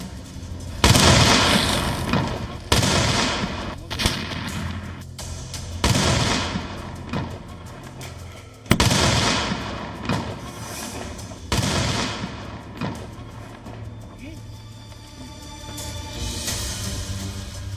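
An IED-type bomb detonation: several heavy, booming blasts burst out one after another, each fading quickly, loud and close over a steady musical background.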